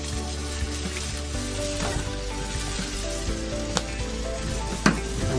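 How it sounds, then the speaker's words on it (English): Soy sauce hits vegetable fried rice in a hot pan, setting off a loud, steady sizzle and crackle that runs without a break, with a few sharper pops and stirring scrapes near the end. "We're gonna add our soy sauce, about 2 tablespoons of soy sauce."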